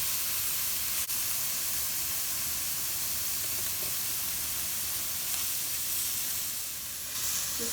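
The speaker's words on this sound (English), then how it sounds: "Just frying up the steak" Thin-sliced beef steak for lomo saltado fries in a hot skillet, a loud, steady, bright sizzle and hiss with occasional crackles and pops, close up and continuous, with no talking.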